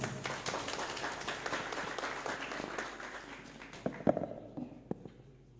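Audience applause at an international school conference, dense clapping that thins out into scattered individual claps and taps toward the end.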